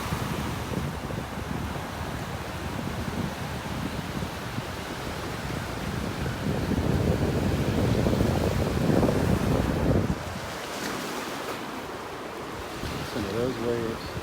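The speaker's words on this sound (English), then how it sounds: "Listen to those waves." Ocean surf rolls onto a beach in North Naples, Florida, a steady broad wash of breaking waves that swells louder in the middle and then eases, with wind buffeting the microphone throughout.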